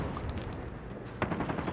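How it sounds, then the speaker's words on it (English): Sentry gun in Call of Duty Mobile firing bursts of rapid automatic shots, fairly faint and distant at first, then a louder, closer volley near the end. "Someone's putting a goddamn sentry gun."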